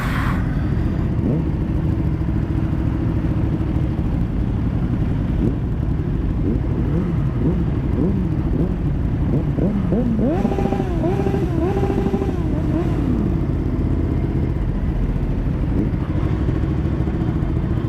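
A Ducati motorcycle engine drones steadily while riding in a winter group ride, a close continuous rumble with brief rising and falling rev changes midway.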